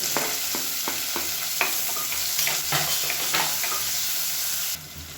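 Chopped onions sizzle steadily in hot oil, with the repeated clack of a spoon stirring the pan, loud and close. The frying drops off abruptly near the end.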